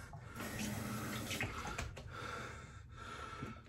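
Water runs steadily from a tap for a few seconds at a shave setup, a continuous close hiss and splash with slight variations in flow and no talking.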